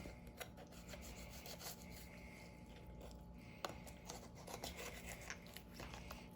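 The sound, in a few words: cutting through turkey cartilage and bone while spatchcocking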